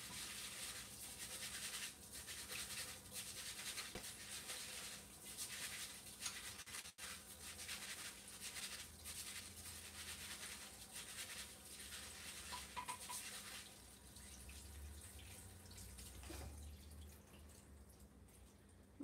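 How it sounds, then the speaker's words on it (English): Brown rice being rinsed and rubbed against a colander under running tap water, a steady close hiss of flowing water with scattered gritty scraping and dripping, no talking. "Okay, got my rice rinsed and polished up a little bit against the strainer."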